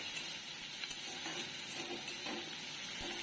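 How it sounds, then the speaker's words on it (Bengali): Steady sizzling of onions frying in oil, with occasional scraping stirs against the pan throughout; no one speaks. "পেঁয়াজটা একটু হালকা ভাজা ভাজা হয়ে যাবে"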